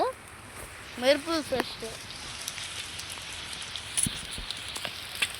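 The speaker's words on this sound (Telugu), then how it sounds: "వర్షం పడుతుంది, బాగా వర్షం పడుతుంది." Steady rain patters down continuously, a dense hiss throughout, with a few brief voices early on.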